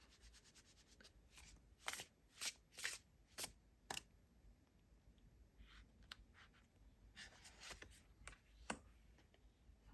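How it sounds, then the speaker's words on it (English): Tarot cards are shuffled from a deck close by, quietly, in a series of short riffling bursts with brief pauses between them. "And then I'm going to pick 2 cards from this deck."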